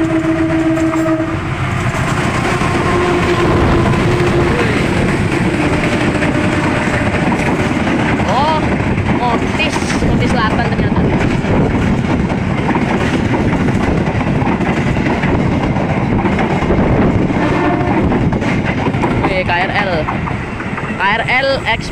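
At an Indonesian railway station, a Motis freight train passes through. A horn blast opens the clip, then a loud, steady rumble and rattle of wagons rolls past for about twenty seconds, with people's voices faintly underneath.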